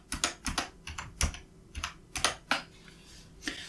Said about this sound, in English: press Ctrl plus the top and bottom arrow keys.